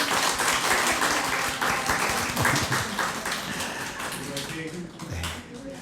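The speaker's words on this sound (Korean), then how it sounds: "박수로 격려하겠습니다." A church congregation claps loudly in encouragement for children who have just sung in a Sunday service, a dense burst of applause that thins out toward the end.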